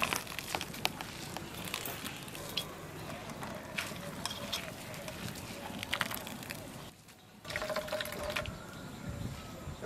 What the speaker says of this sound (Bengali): শাকটার এমনি করে জলটা ফেলে দেবো।